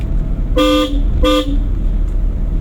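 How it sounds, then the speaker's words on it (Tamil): A driving-school car's horn honks twice in quick succession, loud and close, over a low rumbling engine. "ஹார்ன் அடிக்கணும்."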